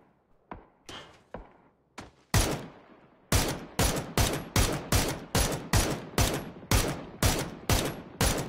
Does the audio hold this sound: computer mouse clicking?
no